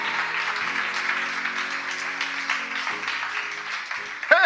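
A church congregation applauding in worship to acclaim God: a steady wash of many hands clapping together at moderate distance, with sustained musical tones underneath and a short sound at the end.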